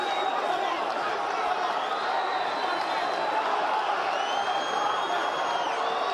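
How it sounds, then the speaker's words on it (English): A boxing arena crowd during a heavyweight fight between Anthony Joshua and Andy Ruiz Jr., a steady wash of cheering and murmuring held at a constant level, with whistles rising above it and a commentator talking over it. "Crowd getting into it."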